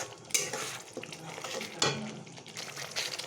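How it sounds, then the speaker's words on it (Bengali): Chopped tomatoes and ground cumin stirred in a pan for egg curry, with spatula scrapes and clinks against the pan and a soft sizzle underneath. "এবার আমি এটাকে ভালো করে কষিয়ে নেব।"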